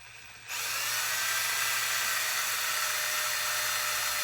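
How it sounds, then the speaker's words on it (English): A power drill starts up and whines steadily as it bores into a pilot hole in a plastic Magpul rifle part, loud and close, with no talking. "So just getting the drill ready, and then we want to go in nice and straight on this, on that pilot hole that I made."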